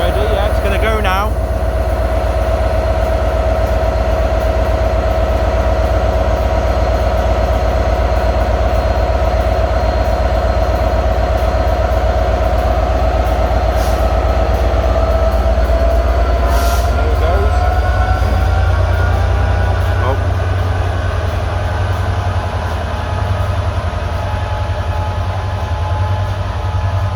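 Train departing Ruabon station, a loud continuous low rumble and engine drone close by, with wheel squeals and clatter building as it pulls away, and people talking over it.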